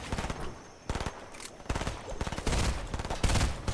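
Rapid bursts of gunfire from a robot enemy in a video game, several rattling volleys separated by short gaps, moderately loud and close, with no talk.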